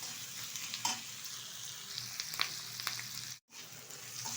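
Chicken for chili chicken is stirred in a hot pan on high heat, giving a steady close sizzle with scattered scraping clicks of the spatula and a brief dip in the noise near the end.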